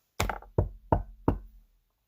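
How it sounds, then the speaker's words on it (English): Four heavy knocks on a wooden front door, close and loud with short gaps between them, used as a storybook sound effect. "That very night, a peasant woman knocked on the front door."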